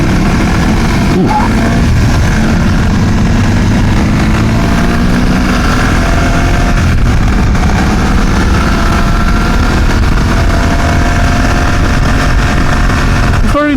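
A BMW GS motorcycle engine roars steadily throughout, loud and close, its pitch climbing gradually as it accelerates under heavy rushing wind noise.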